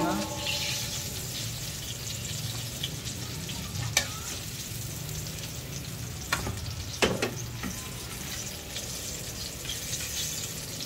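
Chicken wings frying in hot oil, a steady close sizzle and crackle throughout with a few sharp clinks of a utensil against the pan.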